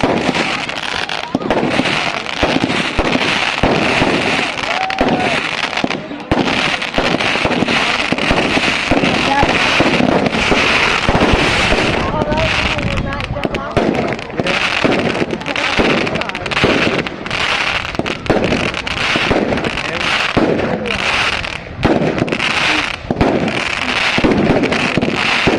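Fireworks bursting at a haunted barn in Scotchfort, Prince Edward Island, a dense run of loud crackling pops and booms that goes on throughout, with people talking and exclaiming amid the blasts.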